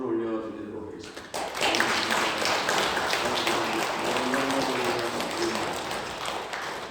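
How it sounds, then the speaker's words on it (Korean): A church congregation at a Sunday worship service breaks into sustained applause, a broad dense patter of many hands that rises suddenly after a speaking voice and then continues steadily. "감사와 찬송과 영광의 박수를 올려드리도록 하겠습니다."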